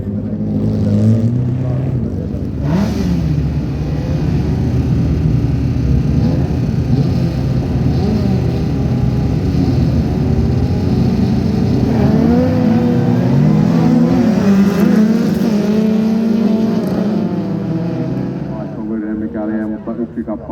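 Rallycross cars racing on a winter track at a junior championship event, engines roaring and revving loudly and continuously nearby, with a commentator talking over them.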